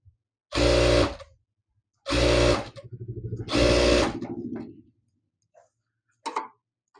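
A sewing machine stitches a blouse in three loud, close bursts of rapid mechanical whirring, each lasting about a second, with quieter ticking between them and a short final run.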